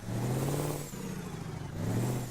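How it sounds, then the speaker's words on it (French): An old Iveco truck's Fiat V6 engine revs and accelerates with a deep droning hum, dips briefly, then climbs again, heard close from inside the cab. "il fait vraiment le bruit du moteur du V6 Fiat qui l'équipait à l'époque"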